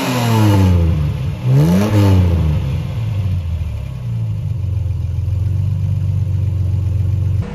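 A Ford Capri MK3 2.8i special, an 80s classic car, revs hard: two quick rising-and-falling blips of the engine up close, then it settles into a loud, steady idle rumble with no talk.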